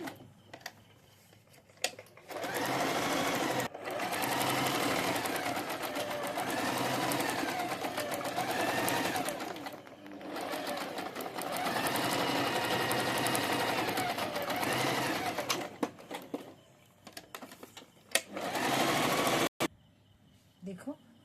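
An electric sewing machine runs in long steady bursts while stitching a decorative salwar cuff design in straight lines, with short pauses between runs.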